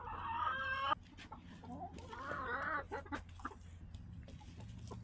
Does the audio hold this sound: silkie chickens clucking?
yes